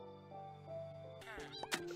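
Minecraft cat meows twice in quick succession, a short rising-falling mew over steady background game music, moderately loud and close, with a voice speaking nearby.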